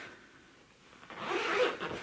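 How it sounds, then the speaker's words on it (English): A dress zipper zipped up the back of a plus-size black wedding gown, a single quick rising zip that swells to its loudest partway through and then eases off, close and alone. "And then zip closure"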